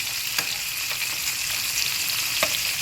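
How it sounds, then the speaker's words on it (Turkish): Steady, dense sizzling of meatballs frying in a hot pan, with a few sharper pops and crackles scattered through. "Güzelce kızartalım."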